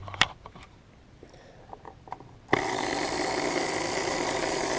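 A Magnatraction slot car motor on a dyno spins up suddenly after a few light clicks and handling taps, then holds a steady, high, whining buzz.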